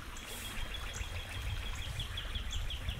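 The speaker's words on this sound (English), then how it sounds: "The birds are chirping" Small birds chirp repeatedly near a swampy area of the Appalachian Trail in the Cumberland Valley, quick high tweets in a steady run over soft outdoor rumble.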